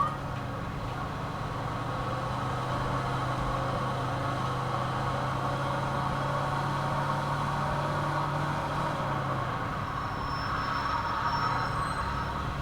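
Car engine hum while driving in the video game Mafia 2, a steady low drone with faint road noise that stays even throughout, no clear speech.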